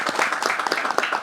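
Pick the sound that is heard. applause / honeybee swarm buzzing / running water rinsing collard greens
applause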